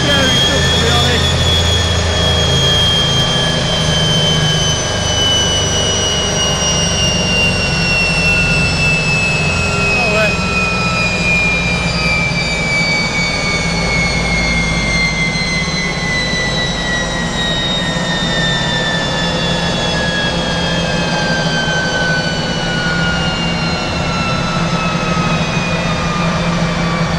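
Stock Vauxhall Vivaro 2.0 van engine held on a dyno, a loud sustained roar with a rising whine that slowly falls in pitch, continuous and close throughout.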